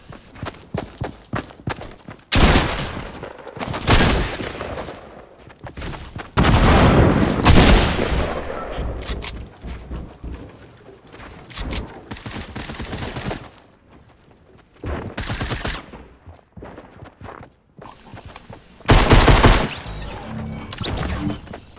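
Rapid SMG bursts in a shooter video game, loud close volleys of automatic fire broken by short pauses and scattered single shots, with sharp impacts between bursts.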